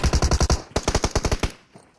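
An AK rifle fires in PUBG Mobile, loud close automatic bursts: about six rapid evenly spaced shots, a short pause, then another fast string of shots that trails off.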